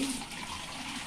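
Hot water runs from a household tap, a steady continuous splashing flow, close and even throughout with no voices over it.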